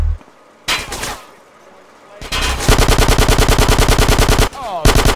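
Gunfire in GTA San Andreas: a short burst, then a rapid, loud automatic stream of evenly spaced shots lasting about two seconds, ending with a brief final rattle.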